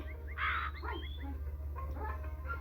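A crow in a realistic video game caws a few times, loud and close, over a low steady background hum.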